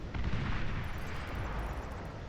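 Units firing in the real-time strategy game Beyond All Reason, a dense run of booming shots and blasts, continuous and fairly close for a couple of seconds.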